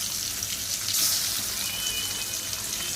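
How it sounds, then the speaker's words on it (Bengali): Small sarputi fish fry in hot oil, giving a steady, close hiss of sizzling with a slight surge partway through. "আর এদিকে তেলটা গরম হয়ে গেছে মাছগুলো দিয়ে দিব"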